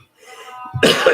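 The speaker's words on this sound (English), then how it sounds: "this cough has got to go." A single person coughs once, preceded by a breathy throat noise, close and loud at the end with no talking.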